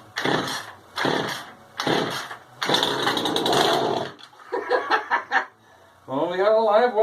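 A barn-find Poulan Pro chainsaw is pulled over in several rough, close bursts before the engine briefly catches and revs unevenly near the end, with speech around the attempts.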